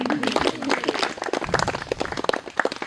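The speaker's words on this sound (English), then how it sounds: "round of applause to Ben, ladies and gentlemen" Wedding guests applaud at an outdoor ceremony with a steady, dense patter of many hands clapping nearby, lasting a few seconds.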